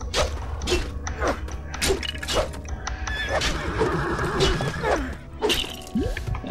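In the Lego Lord of the Rings video game, a horse in Fangorn forest gives several sharp whinnies and neighs amid clopping hooves and clattering game effects, fairly loud and close.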